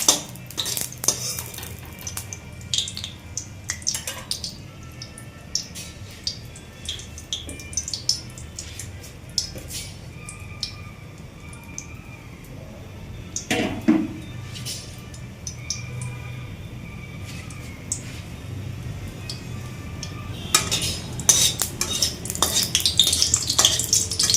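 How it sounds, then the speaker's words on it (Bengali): Dried red chillies go into hot oil in a wok while taro greens are being cooked, bringing a faint sizzle under frequent clinks and scrapes of a spatula against metal, busier toward the end. "তেলটা গরম হয়ে গেছে, এবার শুকনো লঙ্কাগুলি দিয়ে দেব"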